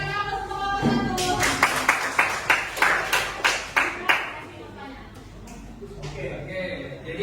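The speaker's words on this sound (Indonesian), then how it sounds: "Berikan aplaus untuk nomor satu." Classroom applause for the first student group: a short burst of rhythmic clapping, about a dozen quick claps, moderately loud, fading into murmuring voices and a faint ringing tone.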